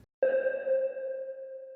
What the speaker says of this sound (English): I have like a percussion beep type of reverb thing